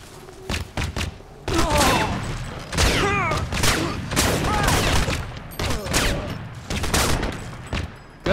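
Grenade explosions and gunfire in the first-person shooter Crysis, a chaotic run of loud blasts and thuds with a fusillade of shots, sudden bursts recurring throughout, over a voice speaking at times.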